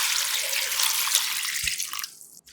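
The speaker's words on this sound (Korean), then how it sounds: "볼에 담고 물을 잠기도록 부어" Water pours steadily into a bowl of thinly julienned burdock root, a full, close rushing stream with no talk that thins and stops near the end.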